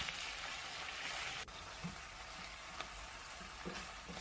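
Chicken pieces fry in a pan with a quiet, steady sizzle and crackle. Faint pops and small clicks are scattered through it.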